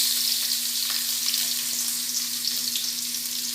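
Onion frying in hot oil for a chutney, a steady close sizzle and crackle running the whole time with no voices, plus a constant low hum underneath.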